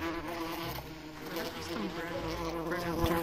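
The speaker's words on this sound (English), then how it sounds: "It's a wasp, watch out!" A wasp in the video game VRChat, a loud continuous close buzzing drone that fills the whole moment with a wavering pitch.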